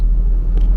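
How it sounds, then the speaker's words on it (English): Audi A6 Allroad engine running just after start, a low steady idle rumble close by over a short stretch with a faint brief click near the end. "Now with that engine running"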